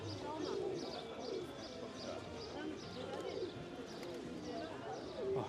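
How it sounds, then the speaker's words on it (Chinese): Pigeons coo and flutter while pecking at scattered corn in an old square in Patan, Nepal, their soft repeated calls and wing sounds blending into a busy outdoor background with voices around. "哇，鸽子在吃玉米。"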